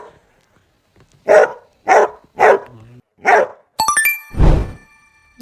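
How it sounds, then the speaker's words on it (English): A dog barks four times in a steady, evenly spaced rhythm. The barks are sharp and close in a quiet room, followed by a heavy thud with a bright ringing tone. "This is dog. Dog says bow, bow,"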